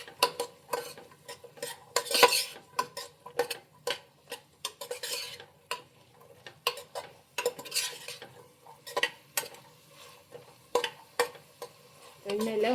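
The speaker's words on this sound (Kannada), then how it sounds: "ಹಾಕ್ಕೊಂಡು ಎಣ್ಣೆಲ್ಲ ಅದು ಸ್ವಲ್ಪ 1-2 ಸೆಕೆಂಡ್ ಹಾಗೆ ಫ್ರೈ ಮಾಡ್ಕೊಳ್ಳಿ" Cut vegetables frying in oil in a pan, heard as repeated clinks and scrapes from a stirring spoon over a faint, low sizzle, with irregular bursts of stirring and no talking.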